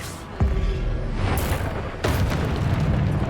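A Confringo blast spell explodes in the video game Hogwarts Legacy, giving two sharp booming bursts with rumbling tails, close and loud, one near the start and another about two seconds later.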